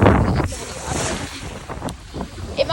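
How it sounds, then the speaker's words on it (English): Ocean surf rolls onto a beach during a hurricane, heavy wind buffeting the microphone over a loud, continuous wash of waves, with a person talking over it. "Oh, look at these waves! Look at these waves!"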